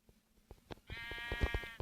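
A sheep bleats in Minecraft Pocket Edition, a long wavering call among short clicks and thumps of game sounds.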